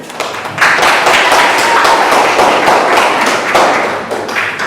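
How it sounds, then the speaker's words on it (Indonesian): Loud, close applause from a group after a school coaching presentation, dense irregular clapping that swells after the first half second and holds steady throughout, with no talk. "Kasih tepuk tangan."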